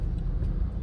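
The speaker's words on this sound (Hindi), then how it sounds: "अब जाके ट्रैफिक थोड़ी थोड़ी मूव कर रही है" Slow-moving road traffic crawling through a jam near Mumbai gives a steady, close, low engine rumble with no distinct horns or voices.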